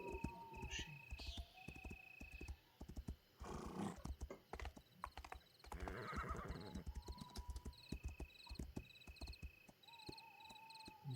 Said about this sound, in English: Slow down here for a second while the horse rests.